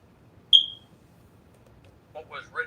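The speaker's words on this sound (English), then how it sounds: "Quit talking about this battery alarm." A smoke alarm gives a single short, bright high-pitched chirp, the kind a detector makes when its battery runs low, in a quiet room before someone starts talking a couple of seconds later.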